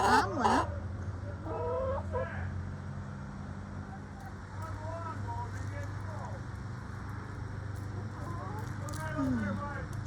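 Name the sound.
chickens clucking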